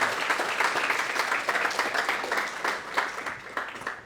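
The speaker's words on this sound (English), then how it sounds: "So big round of applause for Kaitlin." An audience at a healthcare service design talk gives a round of applause, steady and fairly close clapping that runs throughout with no talk over it.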